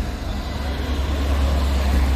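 Steady road traffic near a morning market on a South Pacific cruise stop, a continuous low rumble of passing cars and engines, fairly loud and close, with no voices.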